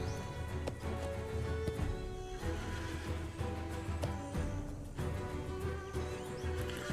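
A horse running with clip-clopping hooves under a whinny, sharp hoof strikes scattered across a busy, fairly faint background.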